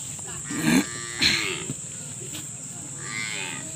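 A buffalo at a dairy farm lets out two loud, close moos in quick succession, followed by quieter farmyard ambience.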